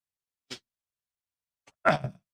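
A single short sneeze comes close to the mic, first a faint sharp intake and then a fuller burst, with quiet silence on either side.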